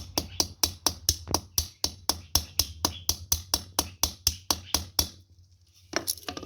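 A ball peen hammer that is oversized for the job strikes repeatedly while peening the pin on a custom knife, giving about twenty close, sharp metallic taps at a fast, even rhythm before a short pause and a final tap.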